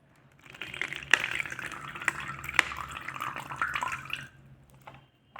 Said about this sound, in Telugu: వాటర్ పోస్తున్నా.